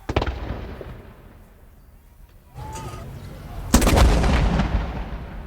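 A ceremonial artillery gun salute marks Queen Elizabeth II's birthday: heavy booming blasts, one near the start and a louder one later, echo outdoors amid shouted commands.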